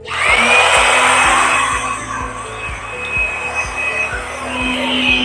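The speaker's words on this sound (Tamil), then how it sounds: "இதுதான் mini vacuum tube vacuum cleaner" A mini handheld tube vacuum cleaner's small motor whirs loudly and steadily nearby, with rhythmic ticking and brushing sounds as it moves over a surface.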